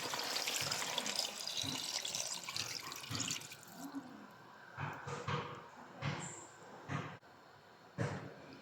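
A rushing pour of water for several seconds into a pot of pork bone caldereta with tomato sauce, followed by a few brief splashes and clinks as liquid settles.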